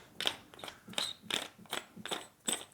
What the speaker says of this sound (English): I think there's still some in the grinder. I'm gonna give it another twist.